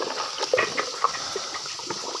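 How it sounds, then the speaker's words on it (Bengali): Running water splashing as used kulfi containers are washed, a steady close stream with small irregular clinks and splashes, moderately loud with no talk. "এগুলো এখন ধুয়ে রেখে দিতে হবে।"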